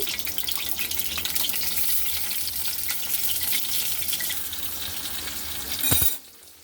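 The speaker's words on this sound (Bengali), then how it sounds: "রেগুলার রান্নার মতো পেঁয়াজগুলোকে ভেজে নিব প্রথমে" Onions sizzle and crackle in hot oil in a wok, a dense steady frying hiss at close range, ending with a brief louder scrape before dropping away.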